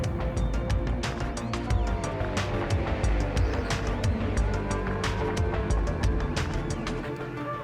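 BMW M2 2016 sports car engine cruising, a steady low drone with a rich tone that stays even throughout, with no voices over it.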